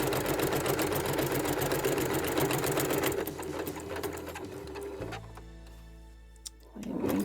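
A sewing machine stitches across a log cabin quilted mug rug, a loud, rapid, steady mechanical whirr and clatter that slows near the end, stops briefly, then restarts.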